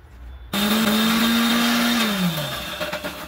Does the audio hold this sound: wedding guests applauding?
no